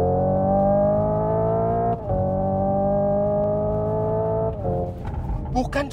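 A 2024 Hyundai Ioniq 5 N drifts on a race circuit, giving a loud, sustained, droning engine-like tone with brief dips like gear shifts, then a burst of tire and track noise near the end.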